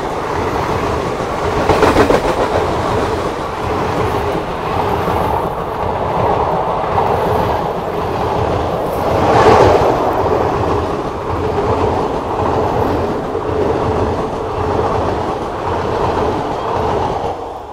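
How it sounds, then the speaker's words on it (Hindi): The Barmer–Guwahati Express, an Indian passenger train, overtakes on an adjacent track, its continuous loud rumble and clattering wheels on rails rolling steadily past at close range for the whole stretch. "बाड़मेर गुवाहाटी एक्सप्रेस ने ओवरटेक किया"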